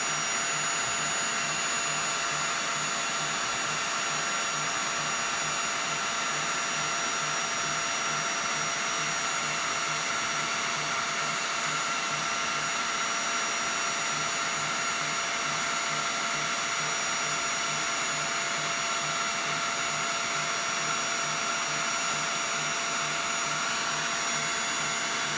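Heat gun blowing steadily while shrinking heat shrink tubing onto an egg sinker on a wahoo trolling lure, a constant high-pitched whine and airy hiss held unbroken throughout, close and fairly quiet.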